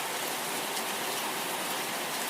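Steady rain falls as a dense, even hiss of countless drops, constant and fairly close, with no other sounds or voices.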